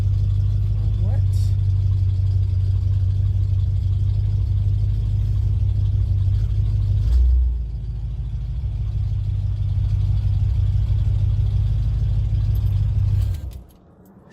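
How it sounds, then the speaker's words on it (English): Inside the cabin of a 1976 Chevrolet Corvette C3 with a modified exhaust, a loud, steady low engine drone hums continuously, dipping briefly midway and cutting off near the end, with faint handling noises. "One of the problems this car has is a little bit of a drone inside"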